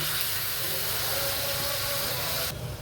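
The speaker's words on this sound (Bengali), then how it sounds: "মাংসটি আমি ভালো করে ভেজে নেব।" Chicken meat for shawarma fries in a pan with a loud, dense, unbroken sizzling hiss that holds steady throughout, easing slightly at the very end.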